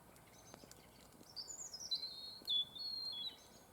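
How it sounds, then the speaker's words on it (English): A robin's thin, high song phrases drift in over a quiet evening background beside an old church, a few clear whistled notes rising and falling at moderate distance. "There's a robin."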